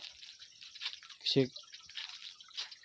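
Soft, steady rush of flowing water with a brief louder splash midway, fairly quiet and close, with faint voices murmuring now and then.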